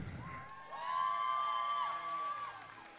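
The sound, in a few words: roller derby crowd cheering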